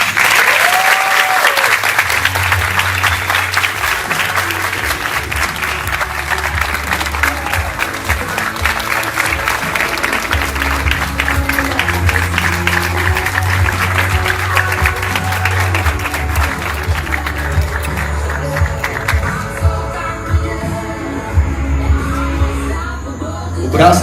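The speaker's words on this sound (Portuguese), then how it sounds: "Uma salva de palmas pro Carlinhos." Sustained audience applause for Carlinhos, with dense clapping, a few whoops and shouts, and music underneath throughout, thinning slightly toward the end.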